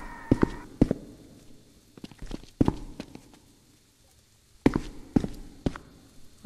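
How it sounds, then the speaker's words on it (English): Footsteps in a Roblox horror game: a sparse, irregular run of soft thuds and scuffs, some in quick pairs, with quiet gaps between them and no voices. "I have just heard footsteps."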